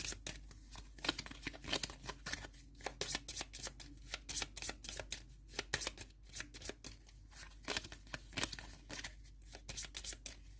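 Cards being shuffled during a tabletop card game, with a quick, steady run of crisp riffles and snaps that repeats close to the mic, faint overall and without speech.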